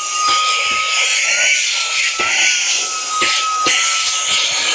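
A Temo vacuum cleaner runs steadily inside a luxury caravan at a secluded cove camp, a loud constant whining drone with a high whistling tone on top and a few soft knocks underneath.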